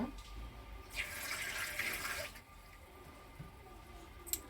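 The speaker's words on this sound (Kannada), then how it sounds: "ಇದೇ ಬಾಣಲಿಗೆ ನಾವು ಬೆಲ್ಲ ತೆಗೆದಿಟ್ಕೊಂಡಿದ್ವಲ್ಲ ಅದನ್ನು ಹಾಕ್ಕೊಂಡು ಸ್ವಲ್ಪ ನೀರು ಹಾಕ್ಕೊಳ್ಳೋಣ" Water poured into a pan of jaggery to make syrup for rice laddu, a soft, close trickle and splash swelling for about a second and a half, then fading to faint drips.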